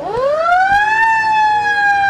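A fire engine siren wails loudly and close as the truck passes in an autumn festival parade, its pitch sweeping up and then holding a steady high tone.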